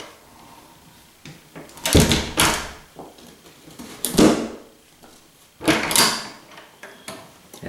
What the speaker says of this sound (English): hopefully I can open up this door